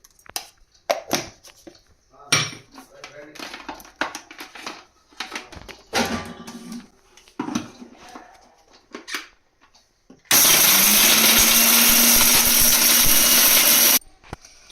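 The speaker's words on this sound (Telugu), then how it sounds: "ఇవి మొత్తం మనం మిక్సీ పట్టేసుకోవాలి" Mixer grinder grinding whole spices such as fenugreek, fennel, nutmeg, marathi moggu and bay leaves into masala powder: a loud, steady whirring roar of about four seconds, preceded by clattering knocks and handling noises.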